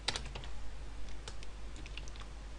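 Someone types code on a computer keyboard, with quick irregular clicks and clacks of keys close by, some louder strikes scattered among lighter taps, and no voices.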